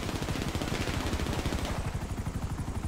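Rapid automatic gunfire in GTA 5 Online aimed at an aircraft overhead, a steady stream of fast, evenly spaced shots that stays dense and continuous throughout.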